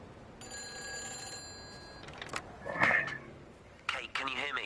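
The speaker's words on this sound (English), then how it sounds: "Oh, where's that phone ringing at?" A phone booth telephone rings in the video game Everybody's Gone to the Rapture, a faint, steady bell tone over quiet ambience, followed by clicks and a character speaking.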